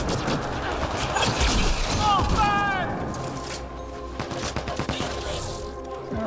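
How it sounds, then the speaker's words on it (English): Gunfire from a sniper rifle in Mass Effect Andromeda multiplayer: sharp shots and booms mixed with game effects and sweeping electronic tones, fairly loud, with a voice talking over the action. "I like this sniper rifle"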